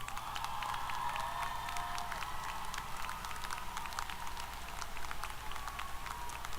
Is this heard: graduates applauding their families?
yes